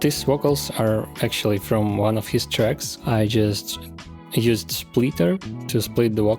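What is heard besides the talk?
No everyday noises stand out.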